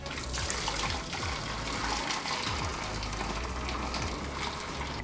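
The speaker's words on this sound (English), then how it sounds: "But let's add some water inside first." Water pours steadily into the pot of an electric 2-in-1 hot pot and grill, a continuous close splashing gush with no talk over it.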